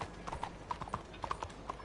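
Horses' hooves clip-clopping in Red Dead Redemption, a quick irregular run of hoof strikes at moderate distance, with faint talk underneath.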